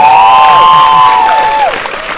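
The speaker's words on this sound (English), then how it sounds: "So big round of applause to Bob Shea as well." A loud crowd at a Nightmare on Elm Street 35th anniversary event with cast guests applauds and cheers, a dense wall of noise topped by sustained shrill whistles and whoops that slide downward and fade.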